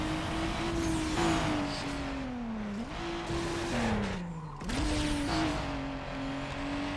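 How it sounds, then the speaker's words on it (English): A race car in the Need for Speed: Underground game holds a steady loud engine drone that drops and then surges back up twice as the nitrous boost kicks in, with a tire squeal and no talk. "Now I need to use my nitrous."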